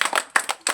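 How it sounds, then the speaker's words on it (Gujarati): Close hand claps in three quick bursts, each a short flurry of sharp slaps separated by brief pauses, with no voices over them. "સરસ તાળી પાડો"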